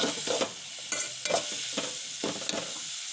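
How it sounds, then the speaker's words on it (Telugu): Curry leaves with a pinch of salt fry in hot oil, a steady crackling sizzle broken by several louder stirring scrapes and pops, close by with no voices. "కరివేపాకు, చిటికెడు సాల్ట్ వేస్తే తొందరగా ఫ్రై అవుతుంది"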